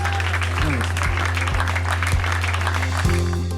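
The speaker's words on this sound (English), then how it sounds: "A round of applause" Audience applause at a community event honoring graduates, a steady wash of clapping mixed with a low sustained hum and a few dull thumps.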